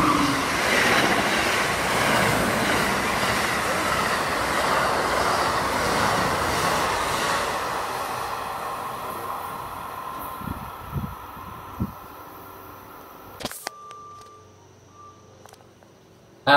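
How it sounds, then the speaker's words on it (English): A northbound Amtrak Northeast Regional train speeds through a station on track 2 without stopping, a loud sustained rush and rumble of wheels on rail that gradually fades, ending with a few clicks. "Next up is another northbound Amtrak Northeast Regional who is currently not stopping for the stop because he's on track 2."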